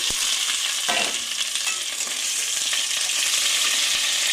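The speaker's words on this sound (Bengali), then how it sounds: "এবার আমি এই ভাজার তেলের মধ্যেই 2টো শুকনো লঙ্কা আর 2টো তেজপাতা ফোড়ন দিচ্ছি।" Dried red chilies and bay leaves tempering in hot oil that was used for frying vegetables for sukto, giving a steady, dense sizzle throughout with a few sharp crackles and spatters, close and loud.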